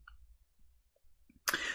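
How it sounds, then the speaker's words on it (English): A single short, rough throat clearing bursts close to the microphone after a near-silent pause, with no speech around it. "this is the second time that I've had to clear my throat"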